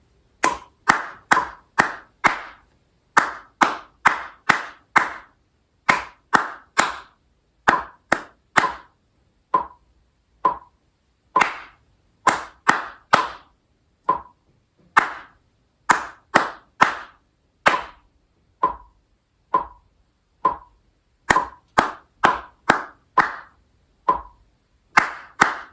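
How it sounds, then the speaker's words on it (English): Hand claps beat out a rhythm exercise from a beginner tenor sax method book, sharp and close, in irregular groups of quick claps separated by short pauses, repeating throughout with no talking. "So here is, once again, hand clapping, top line of music, number 110."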